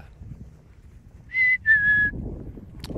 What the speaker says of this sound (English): That's her whistle.